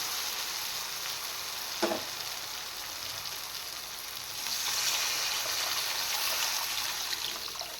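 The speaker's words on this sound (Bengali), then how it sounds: "এবার আমি দিয়ে দেবো জল" Water poured into a pan of fried masala in oil sets off a loud, steady sizzle and hiss, with a brief splash near the start and the sizzle swelling later, close up and without talk.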